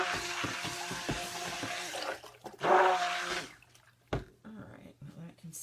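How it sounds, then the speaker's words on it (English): Stick blender rinsed under a running kitchen tap, gushing water in bursts with splashes and clatter, stopping and starting, fairly close with brief pauses of quiet. "Put this back and give it a rinse."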